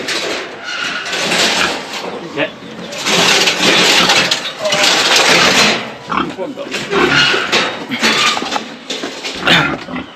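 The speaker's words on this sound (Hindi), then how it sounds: "सुअर को पकड़ रहे हैं, बिल्कुल मतलब 5-6 लोग मिल करके सुअर को पकड़ रहे हैं यहाँ पे।" A pig squeals loudly as five or six villagers trap it in a net in a Thai village near the Myanmar border. Harsh, repeated shrieks come amid commotion and people talking nearby.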